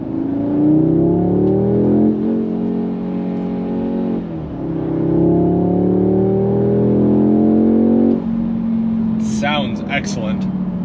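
A 2022 Audi S3 drives a mountain road in Colorado, its engine steadily humming and rising in pitch through two upshifts before settling into a lower cruising drone, loud and close from inside the cabin, with a few brief clicks near the end.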